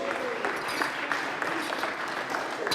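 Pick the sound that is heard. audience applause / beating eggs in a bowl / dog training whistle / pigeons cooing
audience applause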